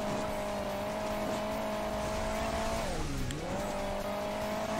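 Engine of a rally car in the mobile driving game Hill Climb Racing 2, a steady loud synthetic drone that dips in pitch briefly before recovering, with faint tire noise underneath.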